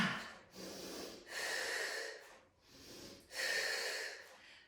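Heavy breathing during a core strength exercise, four long, forceful breaths alternating in and out in a steady rhythm, close and fairly loud with no talking.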